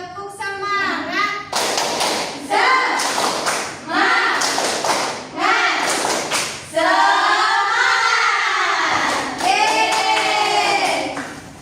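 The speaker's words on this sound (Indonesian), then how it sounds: "Kita tepuk semangat dulu." Children chant in unison with bursts of sharp, rhythmic group claps punctuating the chant, close and loud in a lively room.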